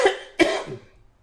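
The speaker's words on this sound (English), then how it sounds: "I feel a cough coming" Two coughs from a single person, a sharp burst at the start and a second, louder one at about 0.4 seconds that trails off, close and clear with no speech around them.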